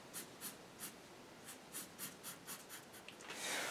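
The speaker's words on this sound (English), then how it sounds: "So now let's go in black and blacken in the colored pencil." Colored pencil shading in black on paper, a steady rhythmic scratch of strokes back and forth, close and soft, with no talk.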